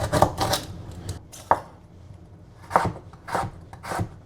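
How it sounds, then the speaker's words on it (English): Onions and carrots being cut on a board for miso soup, heard as a handful of close, irregular knife chops and scraping strokes with short pauses between, no voices. "I like to cut the vegetables that go on top, like onions and carrots, a little smaller than the other vegetables"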